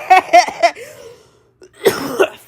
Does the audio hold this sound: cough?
yes